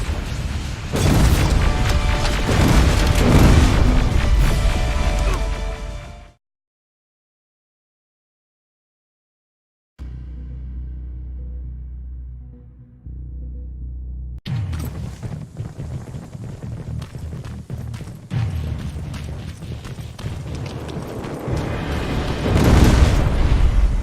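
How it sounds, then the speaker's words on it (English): Loud booming rocket explosions and crashing blasts in the Terminator Resistance video game, a dense barrage that cuts to silence, then resumes with rumbling impacts and bursts building to a heavy finish. "Find a rocket launcher! Something's not right! Rocket!"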